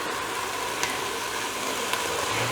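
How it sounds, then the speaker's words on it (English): Chopped tomatoes from a tin pour into a hot Instant Pot with a sustained sizzle. A couple of sharp clinks mark the tin against the pot rim, and no voices are heard. "So all the chopped tomatoes, so that 1 tin goes in."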